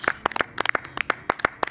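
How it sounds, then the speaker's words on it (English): An audience claps for a speedrun trick at a live speedrunning marathon event, a short burst of scattered hand claps from a small number of people, sharp and close, irregular in rhythm. "A little clap for that trick and explanation too."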